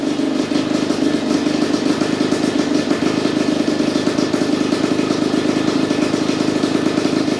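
A 2021.5 GPX TSE250R motorcycle with a Keihin PWK 38 carburetor and the muffler not fully on idles while warming up, a loud, close, steady engine putter with rapid rhythmic pulsing and light mechanical clatter, no voices.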